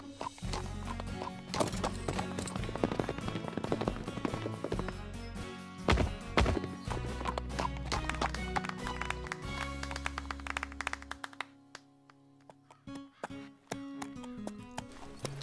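Cartoon horse hooves pound in quick clip-clop rhythm during a riding lesson toward a jump, loud and busy with thuds, a whinny and background music, dropping away briefly near the end.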